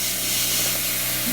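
A Revolution airbrush at about 12 to 15 psi gives a steady, loud, airy hiss as it sprays paint onto a Kotare Messerschmitt Bf 109K-4 scale model. The sound runs continuously with no talk.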